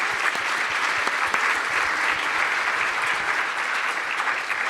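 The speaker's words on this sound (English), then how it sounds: "I will ask a very good applause to the panelists here for this question and answer" An audience at a nuclear energy and radioactive waste forum applauds the panelists after a question-and-answer session, dense steady clapping filling the hall without pause and with no voices over it.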